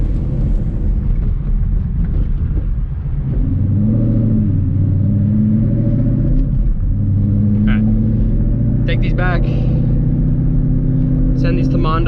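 A car with a badly slipping clutch carries a loud, steady engine drone with rising and falling pitch through acceleration, and a few short sharp ticks and chirps come near the end.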